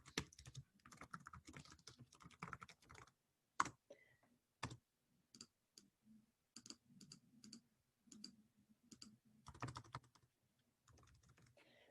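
Keys clatter on a computer keyboard as an email address is typed in, coming in quick bursts of clicks with short pauses and a couple of sharper single taps, close and fairly quiet.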